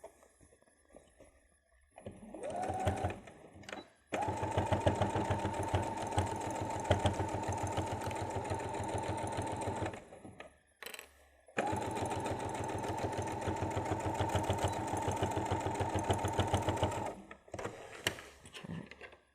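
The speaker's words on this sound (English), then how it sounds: "The only thing you're wanting to sew is your pocket." A sewing machine stitches a pocket onto a fabric travel pouch in two long, steady runs of rapid mechanical whirring, separated by a short pause, with brief handling sounds before and after.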